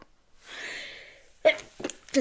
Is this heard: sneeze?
yes